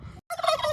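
A turkey tom on a family farm lets out a loud, close gobble, with a short burst of fowl noise before a brief pause and then a rattling full gobble.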